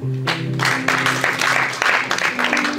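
A church congregation breaks into brief, loud applause, clapping densely together, with voices mixed in over a sustained background tone.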